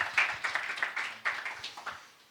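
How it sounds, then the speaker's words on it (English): A conference audience claps after a talk on Kubernetes and OpenStack cloud management, giving a brief, light round of applause that tapers off within a couple of seconds. "Please, a round of applause"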